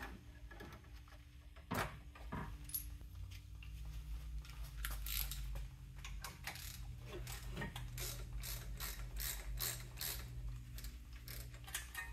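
A ratchet wrench fitting a brake banjo bolt on a 2007-2011 Toyota Yaris during a big brake kit upgrade, quick rapid clicking in bursts that grows into a steady fast series, close and fairly quiet.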